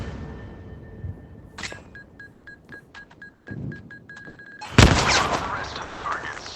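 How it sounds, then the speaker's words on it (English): In the Zero Caliber shooter game, a grenade is thrown during training. Quiet handling and a row of short electronic beeps come first, then a sudden loud blast that fades out into a rumbling tail. "Remove the pin and throw it towards those targets."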